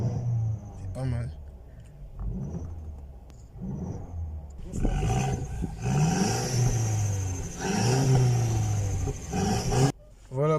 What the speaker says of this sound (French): Voilà pour la petite sonorité de la voiture